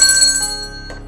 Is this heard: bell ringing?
yes